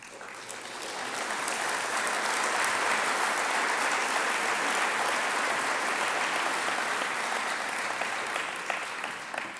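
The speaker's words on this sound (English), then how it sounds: "Deserving of applause before even knowing what for." Sustained applause from an audience at a school honors convocation greets tri-sport athletes, rising quickly and holding steady for several seconds with no speech over it.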